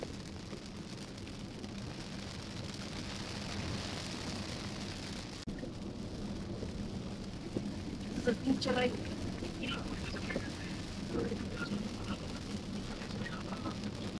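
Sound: rain falling

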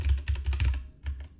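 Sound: typing file name on computer keyboard

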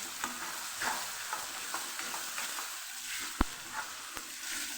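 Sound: stirring tomatoes frying in pan

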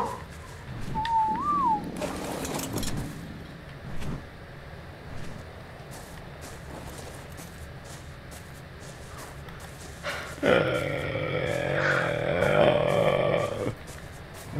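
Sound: Argentavis bird calls in the video game Ark: Survival Evolved

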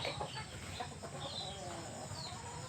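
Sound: chickens

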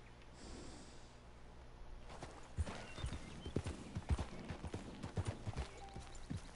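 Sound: horse hooves walking, from a video game

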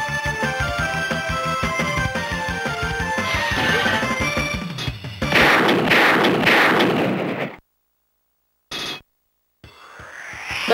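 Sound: shooting in DonPachi video game

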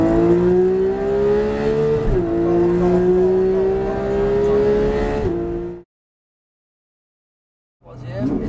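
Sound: sports car accelerating on the Circuit de Bresse track

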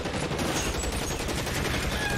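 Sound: gunfire in the video game L.A. Noire

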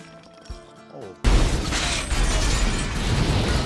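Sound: two grenades exploding in a film

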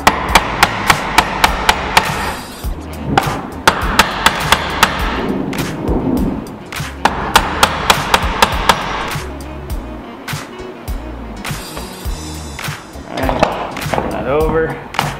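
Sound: chisel struck with mallet cutting dovetails

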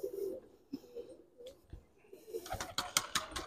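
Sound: pigeons cooing

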